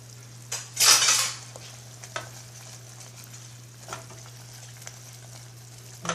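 Lao chicken feet salad being tossed with seasoning in a bowl, with a loud scraping rustle early on, then sparse clinks and soft stirring scrapes over a steady low hum.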